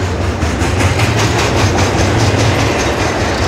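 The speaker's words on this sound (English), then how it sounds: "Hopefully this train isn't super long." A train passing right beside the track, a loud, continuous rumble with rhythmic clattering of wheels on rails, very close and filling the whole clip.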